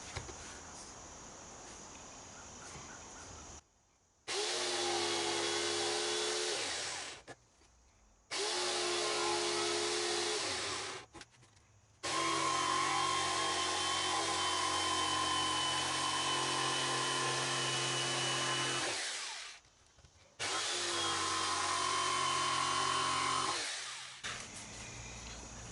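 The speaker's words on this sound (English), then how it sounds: "I'm going to have to come in here with the jigsaw perpendicular on this line" A jigsaw cuts wood for a simple workbench with a loud, close buzzing drone. Five separate cutting runs of a few seconds each are broken by short silent pauses.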